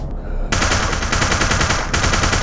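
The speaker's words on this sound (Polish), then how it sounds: "No przez ścianę mnie strzela!" Gunfire from a video game, shots coming through a wall, rings out in a loud, sustained rapid burst of automatic fire that hammers on almost without pause for about two seconds, close up and with no voices.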